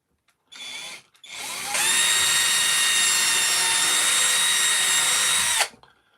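A woodworking bandsaw motor whines in a short burst, pauses, then starts again and runs at a loud steady pitch for about four seconds before stopping, with no talking.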